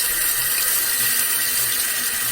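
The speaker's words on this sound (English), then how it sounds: "let me turn this water off" Tap water running steadily into a sink while an upper denture is rinsed, a close, even, full hiss of flowing water with no pauses and no voices.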